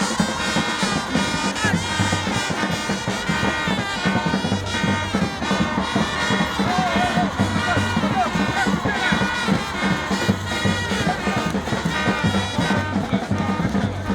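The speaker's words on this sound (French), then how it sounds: "toutes ces femmes qui l'ont accueilli avec acclamation et des cris de joie à tue-tête" A large crowd of women in Bingerville, Côte d'Ivoire, cheers and shouts with joy, a dense continuous roar with rhythmic chanting or drumming pulses underneath, loud and sustained throughout.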